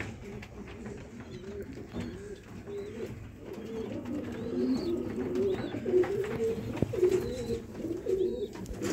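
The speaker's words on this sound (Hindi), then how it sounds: "यह भी भाई दे माशाल्लाह बहुत नायाब कबूतर ने दोस्तों।" Rare fancy pigeons kept by a Sialkot pigeon fancier coo in repeated soft, low throaty phrases, close by and steady throughout, with faint chirps and light background murmur.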